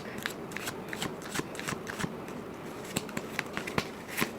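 Tarot cards are shuffled close up, giving repeated crisp flicks and soft snaps in a steady, uneven rhythm with no talking.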